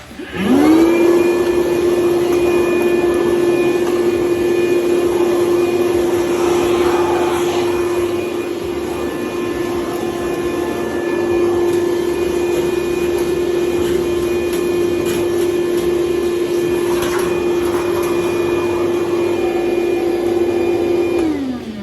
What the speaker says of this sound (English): So the first thing I'm going to do is an initial vacuum up around the outside.